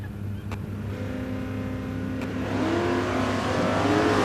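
A 557-cubic-inch Ford Mustang drag racer in a Hot Rod semi-final roars as its engine builds, a loud sustained rising rev with rumbling exhaust growing stronger toward the end.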